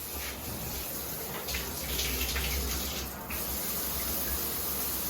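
Rainfall shower head pouring water steadily into a newly installed bathtub, a continuous broad hiss and patter with small surges, close and unbroken, no voices.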